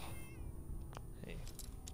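A cat meows in Fallout 4, a short, wavering cry early on, followed by clicks and light jingling against a busy game background.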